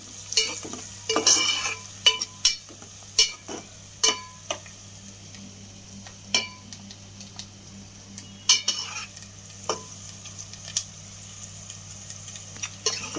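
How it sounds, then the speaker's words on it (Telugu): Curry leaves fry in hot oil for a spicy Andhra okra fish curry, giving a low steady sizzle broken by repeated sharp scrapes and taps of a spoon stirring the pan, close and fairly quiet. "ఇప్పుడు కరివేపాకు వేసుకుంటాము ఇందులోనే."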